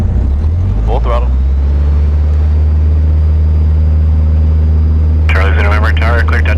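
A small single-engine airplane roars at full throttle during a touch-and-go, a loud, steady droning engine from the cockpit, with short bursts of radio voices at the start and end.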